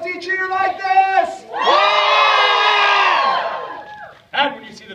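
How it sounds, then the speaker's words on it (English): An audience at a Renaissance festival show lets out a loud, sustained cheer lasting a couple of seconds, with whoops and shouts swelling together, bracketed by brief shouted voices. "a loud and lusty cheer like this!"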